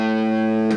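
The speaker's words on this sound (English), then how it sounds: "if you can get your hands on a phase shifter, that will really come in handy" Distorted electric guitar run through a phase shifter, a single sustained note ringing for under a second with a sweeping tonal shift near the end.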